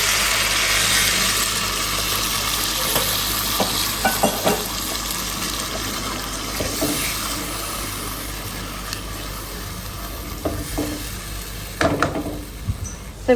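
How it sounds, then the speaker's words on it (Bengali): Rice frying in a pot as water is poured in, giving a steady loud sizzle with occasional scraping stir strokes and clatter, no talking. "এখন হলো আমি পানি দিয়ে দেবো"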